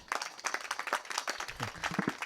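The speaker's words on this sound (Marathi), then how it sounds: "टाळी वाजवा." A kirtan audience in a comedy kirtan gathering breaks into brief scattered clapping, a dense patter of many hands that is fairly close and lasts a couple of seconds.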